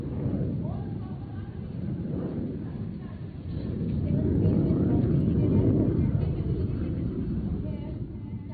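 Indian Air Force jets roar overhead during an aerobatic display at Hindon airbase, a loud continuous rumble that swells midway as the aircraft pass close, with a crowd or commentary faintly underneath.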